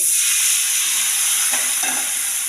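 Water hits hot oil and ground cumin, coriander and chili in a pan for bottle gourd kofta curry, producing a loud, steady, bright sizzle with a faint stir.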